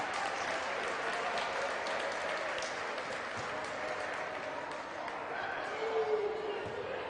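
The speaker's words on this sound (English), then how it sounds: "Josh Hogan gets a round of applause from the fans" Fans at a men's college basketball game applaud a player heading to the bench, steady applause heard at a distance through the arena, with a commentator talking over it.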